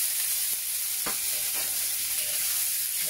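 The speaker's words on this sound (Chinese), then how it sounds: "我哋而家咧將啲鮮蘆筍倒埋落去炒，一齊咁兜。" Fresh asparagus and pork belly stir-fried in a hot wok, a constant loud sizzle and hiss with a few scraping stirs of the spatula, no voices.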